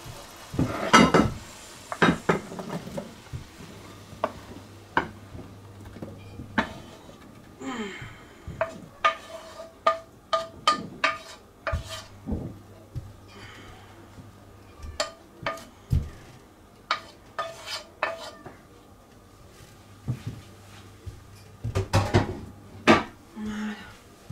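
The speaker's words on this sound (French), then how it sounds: "Transvaser." Apple crumble mixture being moved into a baking dish: repeated clinks and scrapes of a utensil against cookware, with bursts of clatter and a faint low hum, no talk.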